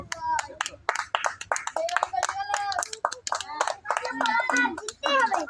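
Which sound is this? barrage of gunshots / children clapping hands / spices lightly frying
children clapping hands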